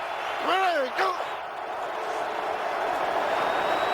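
Football stadium crowd at an NFL game between the Packers and Lions, a broad roar of noise building on third down, with a whistle-like rising and falling tone near the start, sustained and loud.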